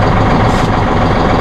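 Massey Ferguson 4700 series tractor engine running loud and close, a steady low diesel rumble with no talking.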